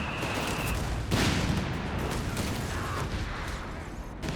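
Dense battlefield gunfire from Company of Heroes 3, a World War II strategy game, as infantry charge German positions: continuous crackling rifle and machine-gun fire with a heavier burst of shots partway through, steady and mid-distance.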